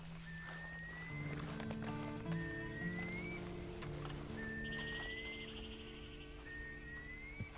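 A horse in the video game Red Dead Redemption 2 gives several short whinny-like calls over a low droning background, with occasional clopping hoof sounds, moderately close and with no speech.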